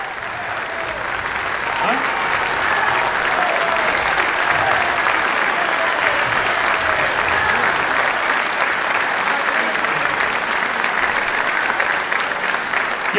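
A standing ovation in the Venezuelan National Assembly, a large crowd clapping loudly and continuously, a dense sustained roar of hands that holds steady throughout with faint voices mixed in.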